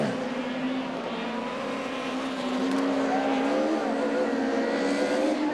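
Rallycross race cars from the two-wheel-drive division run on track, a steady loud engine drone with shifting pitch as they accelerate, continuous throughout without talk.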